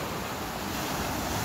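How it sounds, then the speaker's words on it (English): Rough waves on the rocky Lake Michigan shore, a continuous broad rush of surf mixed with wind buffeting, steady throughout with no speech. "the waves are so rough out there"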